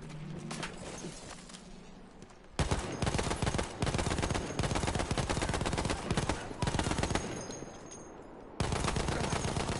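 Rapid automatic cover fire rattles in a video game, with dense, loud volleys filling nearly the whole stretch and brief lulls between bursts.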